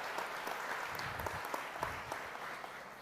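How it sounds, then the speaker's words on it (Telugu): A church congregation applauds for fathers on Father's Day, a faint, steady patter of many hands clapping at once with a few sharper claps standing out, heard from a distance for about three seconds. "మరి ఇక్కడ ఉన్న తండ్రుల కొరకు ఒకసారి చప్పట్లు కొడదాం."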